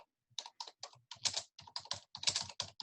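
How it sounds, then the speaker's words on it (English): Someone types on a computer keyboard in quick, irregular bursts of crisp key clicks, close and fairly quiet with short pauses between runs. "I think I hear someone typing."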